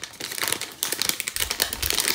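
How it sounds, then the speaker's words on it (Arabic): The wrapper on a hazelnut chocolate bar crinkles and tears open up close, a busy stretch of crackling and rustling plastic with no talking. "نفتح الشوكولاته ديت."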